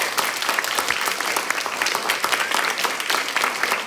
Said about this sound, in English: it'd be great to have another round of applause